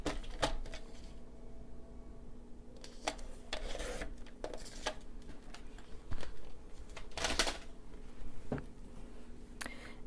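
Scissors or a trimmer cut cardstock for the pocket of a one-sheet mini album, giving close, soft snips and paper rustles over a steady low room hum, with no talk.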